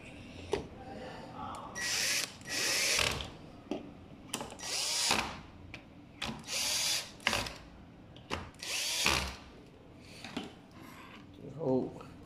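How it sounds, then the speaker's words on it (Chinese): A power screwdriver drives four screws to fasten a cover onto a replacement controller, sounding as repeated short whirring bursts of varying length, close by, with a person talking quietly between them. "把这个盖子固定上去，这里面四颗螺丝打紧"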